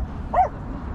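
A dog gives a single short, sharp bark outdoors, close and clear over low background noise.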